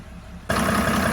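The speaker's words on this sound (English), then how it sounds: "And with the engine running, tach is not running." Boat engine starts at idle partway through during a battery-system test, jumping from a quiet hum to a steady, loud, broadband running drone that holds for the rest of the short stretch.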